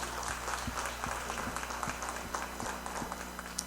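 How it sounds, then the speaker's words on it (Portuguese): A church congregation claps together at a sermon, a steady wash of applause at moderate distance with a low hum and faint voices underneath. "Vamos saudar o Senhor com uma salva de palmas."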